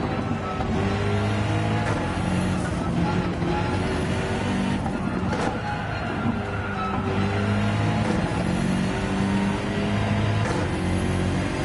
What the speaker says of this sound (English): Got to rev out this BMW.